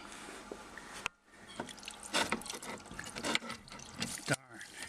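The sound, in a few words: water squirting from dishwasher supply line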